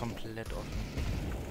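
Gunfire from a shooter video game, a rapid burst of shots emptying a full magazine, with booming low-end thumps across the clip and a player's voice talking over it.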